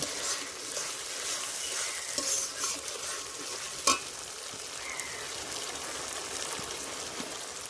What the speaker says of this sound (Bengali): এবার একটু কষে নেব